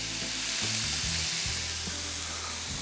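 Cheeseburger patties sizzle loudly and steadily on an Oklahoma Joe griddle, a close, continuous frying hiss with no voices.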